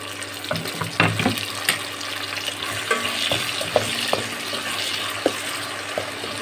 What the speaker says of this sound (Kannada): ಇದಕ್ಕೆ ಒಂದೇ ಒಂದು ಟೊಮ್ಯಾಟೋನ ಕಟ್ ಮಾಡಿ ಈ ಥರ ಮಿಕ್ಸ್ ಮಾಡ್ಕೊಳ್ತಾ ಇದ್ದೀನಿ